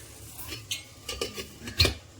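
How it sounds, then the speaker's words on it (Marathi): A few light metallic clanks and taps as a lid is set and adjusted on an idli cooker, close by and fairly quiet. "ह्याला मी झाकण लावणार आहे"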